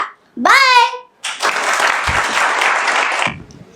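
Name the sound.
applause for a child performer receiving a prize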